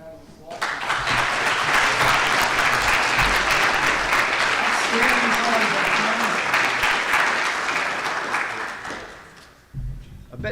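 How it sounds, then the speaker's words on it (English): Audience applause for a presenter at a hurricane season conference, a loud, dense burst of clapping that rises quickly, holds steady for about nine seconds, then fades, with a few voices faintly under it. "let's give Phil a nice round of applause"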